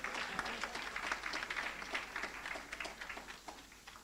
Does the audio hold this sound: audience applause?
yes